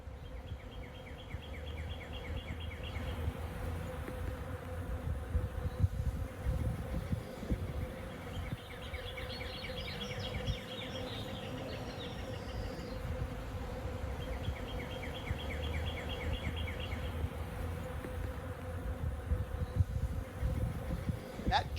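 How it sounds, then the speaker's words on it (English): Hundreds of honeybees hum steadily in a flowering red maple tree, a continuous soft drone with occasional louder passes close by, bird chirps flickering in the background. "As I was walking by that tree, the tree was buzzing."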